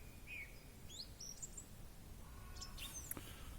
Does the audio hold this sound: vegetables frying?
no